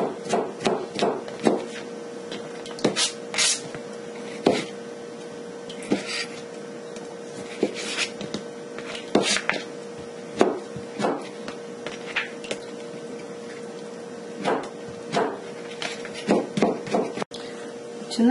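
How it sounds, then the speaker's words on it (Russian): Small cucumbers chopped finely with a knife on a board, an irregular series of close, sharp taps and knocks with short pauses between bursts over a faint steady hum. "Огурцы тоже мелко режем."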